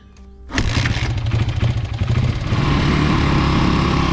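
Dirt bike engine after a main jet change cranks and catches at once, then settles into a steady, loud, close running drone.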